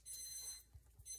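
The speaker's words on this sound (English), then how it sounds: "oh, that's my timer." Timer alarm going off with a rapid, high electronic beeping that pulses in short bursts, faint and thin, with a few soft knocks underneath and no talking.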